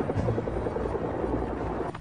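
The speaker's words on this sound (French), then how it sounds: "Soudain, plusieurs hélicoptères birotors arrivent au-dessus de leur tête" Several twin-rotor Chinook military helicopters fly overhead, making a dense, continuous rotor thrum and engine roar that stays loud and steady with no talking.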